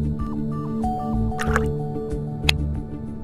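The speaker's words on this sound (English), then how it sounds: "Pour out the ammonium sulfide." Ammonium sulfide poured out in a virtual lab simulation: a short run of synthetic dripping and liquid splash effects with a brighter splash near the end, heard over a steady tonal background with no talk.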